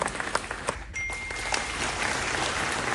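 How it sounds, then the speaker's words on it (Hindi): Applause at the Chinar Book Festival at SKICC in Srinagar, a hall audience clapping with crisp, close individual claps that swell into a steady, fairly loud ovation. "जोरदार तालियां"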